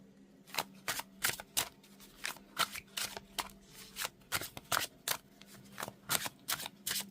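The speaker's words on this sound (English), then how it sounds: "Okay, so let's give this deck a shuffle." A mass-market tarot deck on smooth card stock is shuffled by hand, a quick irregular run of sharp riffling and slapping bursts, close and alone with no talking.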